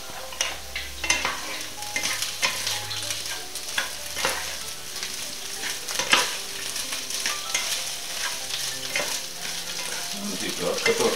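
Fried potatoes and meat patties sizzle in a pan, a steady close crackle of frying with occasional stirring scrapes and utensil clicks, no voices.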